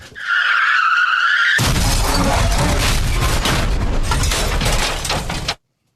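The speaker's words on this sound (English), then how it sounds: "Hit the car crash, Scotty." A loud car crash sound effect: a brief tonal whine, then a sudden heavy impact with crunching metal and shattering debris that rumbles on for about four seconds before cutting off.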